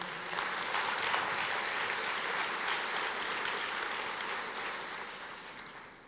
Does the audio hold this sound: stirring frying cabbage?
no